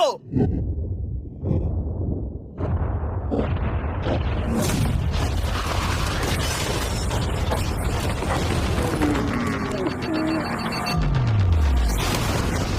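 A yacht is blown up with explosives, producing a loud, broad blast and a rumbling, clattering aftermath over several seconds, with gasps and excited voices around it.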